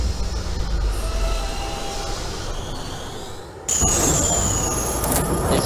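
An R32 subway train runs in the OpenBVE train simulator, with a steady rolling rumble and faint wheel squeals, then a sudden louder surge of rail noise with high squealing partway through.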